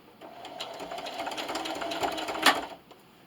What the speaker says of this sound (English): I'll see you over at the sewing machine